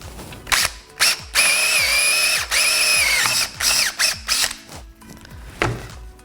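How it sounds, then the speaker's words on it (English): A power drill fitted with a wood bit bores into wood in a series of short, loud bursts, the motor whirring up and grinding through the timber between brief pauses. "let's go ahead and chuck our drill bit up"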